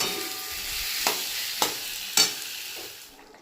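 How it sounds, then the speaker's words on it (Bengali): A pan of Bengali potato and pointed gourd curry gravy bubbles and sizzles steadily up close, with three sharp clinks of a stirring spoon against the pan before the sound fades out. "ঝোল ফুটে এসেছে।"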